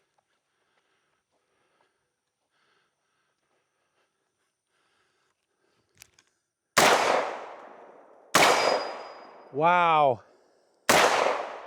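Vepr 12 short barrel shotgun firing slugs at steel targets on a range: three loud sharp blasts a second or two apart after near silence, with a whooshing gap between shots and a brief exclamation.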